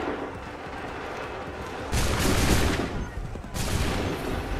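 Musket volleys fire in an Assassin's Creed 3 battle, two heavy broad bursts of massed gunfire arriving a second or so apart after a quieter rumbling lead-in.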